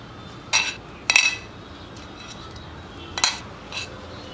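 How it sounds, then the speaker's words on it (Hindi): A knife chops a cooled boiled potato into pieces on a hard surface, giving four or five sharp, separate clicks and taps spread over a few seconds, close and clear against a quiet background. "अब छुरी की सहायता से हम इसके पीसेस कर लेंगे।"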